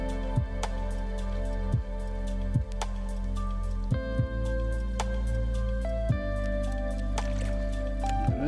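Home-grown potatoes are washed in water, giving soft squishes and drips that fall at an uneven, unhurried pace, close by and fairly quiet.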